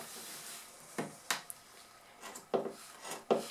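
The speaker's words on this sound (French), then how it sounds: "Donc je découpe au ras de la couture existante." Scissors snipping through old denim jeans along an existing seam, a few short crisp cuts and rubbing rasps in close quiet, spaced irregularly.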